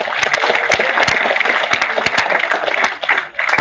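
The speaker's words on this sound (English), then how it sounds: "Please give a huge round of applause." Dense, loud applause from a conference audience as the 2025 proceedings are released on stage, with sharp claps packed into a continuous roar that holds steady before dipping briefly near the end.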